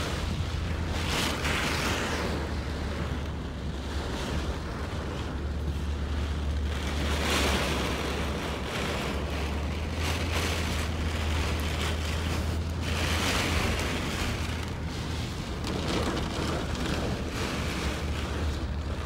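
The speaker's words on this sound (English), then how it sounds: "You got some blowing rain." Hurricane Sally drives heavy wind and rain along Shepherd Street beside Pensacola Bay, a loud continuous roar with gusting surges and a deep low rumble and no talking.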